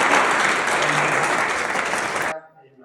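An audience gives warm, sustained applause for a lawyer being introduced at a public-speaking event, loud and steady for about two seconds before cutting off abruptly into near silence.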